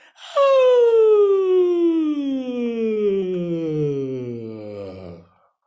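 A group vocal exercise from a Berklee Tour Music Fest masterclass vocal workshop: singers glide together from their highest pitch down to their lowest in one long, loud, continuous siren-like descent lasting about five seconds.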